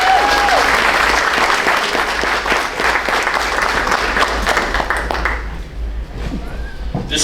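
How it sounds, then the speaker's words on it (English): Loud sustained audience applause at a quarterly volunteer recognition ceremony, dense clapping from many hands that holds steady for several seconds before tapering off at the close. "one more time, round of applause, please"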